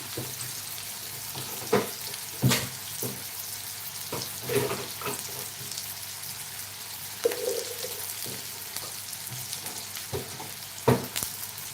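Chopped onion frying in a pan, a soft continuous sizzle with intermittent scraping and clinks of a spatula stirring, close but low in level.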